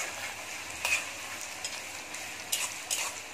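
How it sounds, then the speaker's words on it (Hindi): Chopped onions with dried red chillies frying lightly in a pan for potato and egg bhujia: a soft, even sizzle broken by a few faint stirring clicks, with no voices. "बस 2 से 3 मिनट इसको हल्का फ्राई करेंगे प्याज को"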